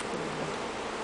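A dense swarm of honeybees hums steadily after being shaken loose from a package box during a 10,000-bee hive install, a continuous close buzzing with no pauses.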